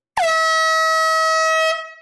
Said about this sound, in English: Okay, fair warning. Air horn.